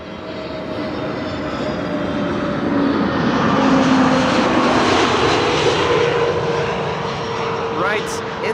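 An airliner registered G-UZHS in Eurovision livery arriving at Amsterdam Schiphol, a moderately loud jet engine rush with a steady whine that builds and then gently fades, with a commentator talking over it.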